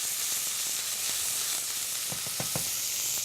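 Leeks frying in a pan with browned bacon, giving a steady loud sizzle with a few soft stirring scrapes toward the end.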